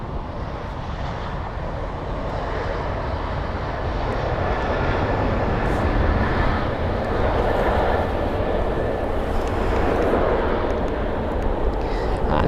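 A KLM airliner landing at London Heathrow from Amsterdam gives a continuous loud jet roar that swells slightly and stays broad and steady throughout, with no talking.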